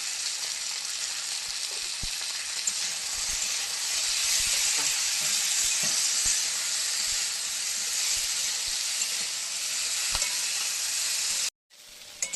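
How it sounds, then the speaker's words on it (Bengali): Okra frying in a pan with a little turmeric and salt gives a loud, steady sizzle and hiss with scattered stirring scrapes and taps. It goes on without a break until a brief cut near the end. "এই দেখুন বন্ধুরা, ঢেঁড়স আর এর থেকে বেশি ভাজবো না।"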